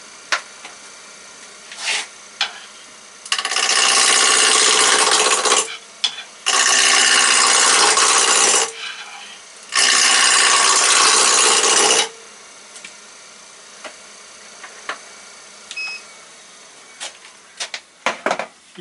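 Wood turned on a lathe running at 1000 rpm with a Record Power tool gives three loud, broad rasping cuts of about two to three seconds each, separated by short pauses, with quiet workshop background and small clicks before and after.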